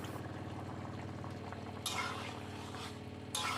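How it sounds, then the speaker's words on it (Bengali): Curry gravy with potatoes bubbles in a pot, a soft continuous simmer with low popping. Two brief louder splashy bursts rise over it, no voices. "ঝোলটা ফুটে উঠেছে"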